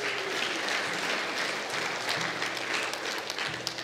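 Congregation applause during a church service celebrating God's gift, steady dense clapping from a room full of people, moderately loud and continuous with a few faint voices mixed in.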